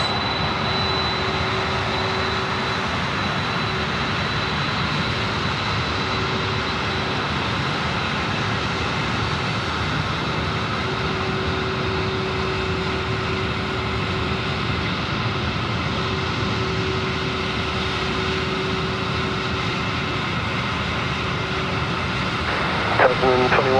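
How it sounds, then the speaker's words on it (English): Boeing 767 jet airliner at Sydney Airport, a sustained engine roar with a steady whine on top, holding level for a long stretch while a voice talks over it and radio chatter comes and goes. "Wow, listen to this coming on the 767"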